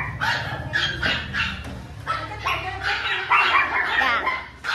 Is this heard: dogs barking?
yes